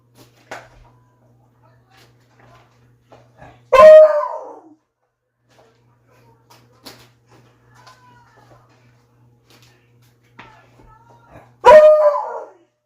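A dog barks twice, about eight seconds apart, with quiet stretches and faint small noises in between.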